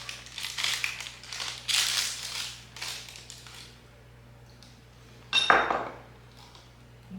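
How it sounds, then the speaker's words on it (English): A spatula scraped clean of brownie batter against a bowl rim, several soft scraping strokes in the first half followed by a sharp clattering knock as a utensil is set down, close and alone. "I'm going to scrape the spatula off."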